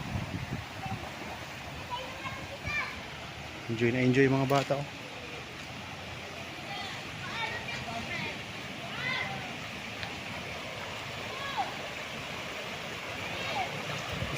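A river flowing beside a rural property in Pangil, Laguna: a steady, soft rush of water runs throughout at low level, while people chat and a voice rises briefly in the middle.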